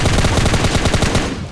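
Rapid automatic gunfire in the PUBG Mobile Lite video game, a loud, close, continuous burst of evenly spaced shots lasting under two seconds before cutting off.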